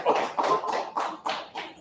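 A small group claps in a live online scripture class, six or so loose bursts of hand claps close by, filling nearly two seconds with no talk over them.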